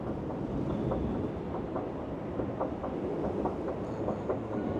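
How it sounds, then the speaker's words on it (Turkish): Steady rumbling rail noise with faint rhythmic clatter, like a train moving nearby inside a Paris train station, with no talking. "Direkt tren istasyonunun içine çıkıyoruz şu anda."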